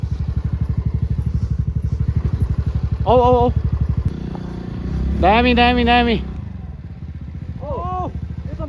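A motorcycle ridden off road on a rough trail, its engine chugging steadily near the listener, with people talking and calling out over the motor throughout.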